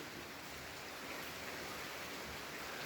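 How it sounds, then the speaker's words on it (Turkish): Steady rain falls outdoors, a soft, even hiss that stays constant and faint throughout, with no voices. "Sesler şıpır şıpır şıp, şıpır şıpır yağmur yağıyor."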